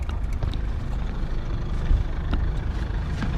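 A sailing boat's inboard engine runs steadily in reverse during manoeuvring, a low continuous rumble with wind and water noise around it.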